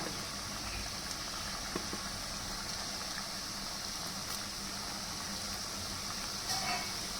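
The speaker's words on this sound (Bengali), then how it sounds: "সব কটাই এইভাবে আবার একইভাবে ভেজে নিই ভাজতে একটু সময় লাগবে" Gulab jamun frying in a kadai of hot oil: a steady, dense bubbling sizzle that runs evenly throughout with no voice.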